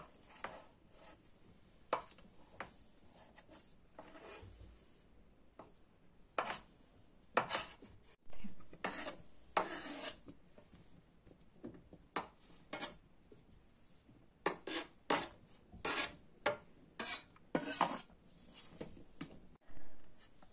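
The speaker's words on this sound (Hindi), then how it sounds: "हम गाजर काट लेते हैं।" A knife chops carrots into cubes on a board for a Russian vinaigrette salad, with quiet gaps between irregular bursts of crisp, close thuds that grow into rapid runs of strokes. No one speaks.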